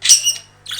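A pet budgerigar gives two sharp, shrill squawks close by, one long burst followed by a brief pause and a second shorter one.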